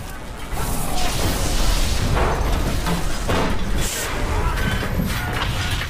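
Deep, sustained booming blast from a U-boat torpedo detonating close to the submarine Swordfish in a World War II naval battle, a continuous roaring rumble with bursts of debris-like crashes throughout.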